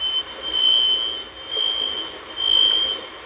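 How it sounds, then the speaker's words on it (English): Smoke alarms cut off from power chirp in a hurricane-damaged coastal area, long piercing electronic beeps repeating at steady intervals over a low ambient rumble, with no voices. "I hear this. The sound of smoke alarms disconnected."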